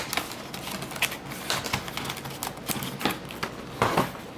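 Cardboard packaging for a Logitech K400 Plus keyboard is torn and opened, giving a quick run of close, sharp crackling taps and rips at an irregular pace with no voices.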